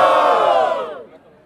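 A crowd at a street rap battle in São Gonçalo, Brazil roars with cheers and shouts, loud and close at first, then fading away.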